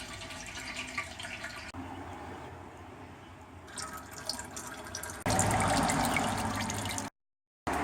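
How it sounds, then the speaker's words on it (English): Engine oil pours from the drain hole of a car's sump pan, a steady splashing trickle of liquid that grows louder and fuller partway through, with no talking. "And we'll just drain the oil out of here."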